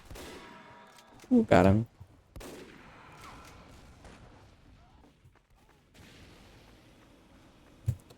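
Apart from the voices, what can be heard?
gunfire in the video game Team Fortress 2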